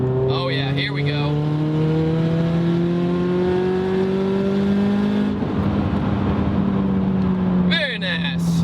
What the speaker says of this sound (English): So we're in 4th gear right now, and we're gonna build boost and just kind of see the sensation.